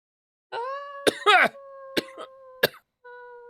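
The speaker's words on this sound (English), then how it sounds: "sorry for the coughing" Several sharp coughs and throat clearing from a podcast host, close to the microphone, scattered between tonal background sounds with brief quiet gaps.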